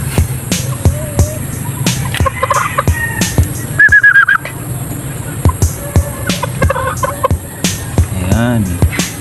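Game fowl chickens and young stags, 7 to 10 months old, at a gamefarm, with scattered clucks and short crowing calls near and far over steady outdoor background noise, and a person talking now and then.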